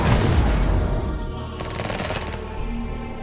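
Units in the strategy game Tempest Rising fire their weapons in a rapid, dense crackle of automatic gunfire, loud and continuous throughout, thinning only slightly partway before resuming.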